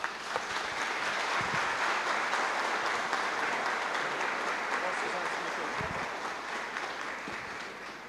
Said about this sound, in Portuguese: a Assembleia Diocesana quer saudá-lo especialmente com uma grande salva de palmas